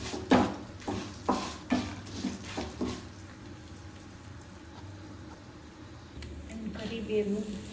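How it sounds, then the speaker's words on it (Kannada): Peanuts are stirred in a hot pan while cooking a pineapple kairasa: several sharp scraping and clattering stirs come first, then a softer steady sizzle, with talk in the background. "ನಾನು ನಾರ್ಮಲ್ ಶೇಂಗಾನ ಸ್ವಲ್ಪ ಹಾಕೊಳತ್ತೇನೆ."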